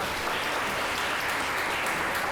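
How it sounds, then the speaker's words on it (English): An audience at a women-in-tech gathering gives a brief, even round of applause, a dense continuous patter from a crowd heard at moderate distance. "I think you all deserve a big round of applause"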